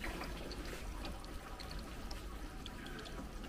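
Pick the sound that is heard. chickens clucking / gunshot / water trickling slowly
water trickling slowly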